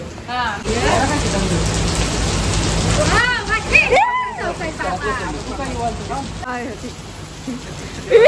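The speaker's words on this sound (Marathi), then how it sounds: "पाऊस बघा. पाऊस खूप आहे." Heavy rain hisses steadily throughout while people talk over it, some voices rising in pitch.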